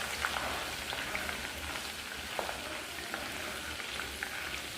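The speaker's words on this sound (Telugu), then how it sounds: "మంచిగా ఫ్రై చేసుకోవాలి." Ginger sizzles and crackles in hot oil for a chicken pickle, a steady, close frying hiss throughout with no talk.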